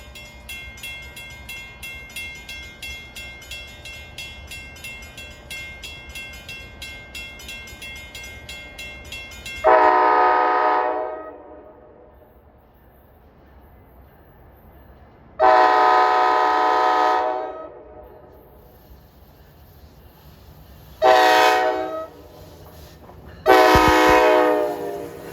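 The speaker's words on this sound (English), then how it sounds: "Well, approaching is train 1115, Hoboken to Waldwick at 339." NJ Transit train 1115, running Hoboken to Waldwick on the Main Line, approaches with a steady rhythmic rumble of wheels on rail. Its horn then sounds four loud blasts, two long and two shorter, with the last blast overlapping the passing clatter.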